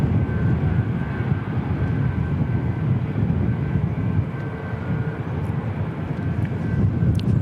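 A Fiji airliner taxis at Christchurch Airport, its engines giving a steady, distant broadband roar with a faint whine on top and no voices.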